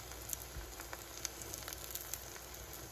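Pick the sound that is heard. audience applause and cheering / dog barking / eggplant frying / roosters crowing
eggplant frying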